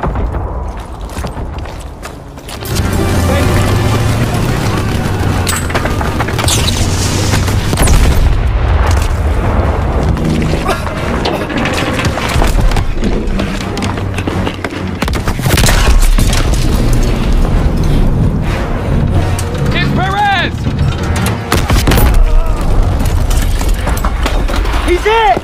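Artillery guns (150s) firing in Call of Duty WW2, heard as continual heavy booms and gunfire under a chaotic battlefield din, with voices shouting amid the clamor throughout.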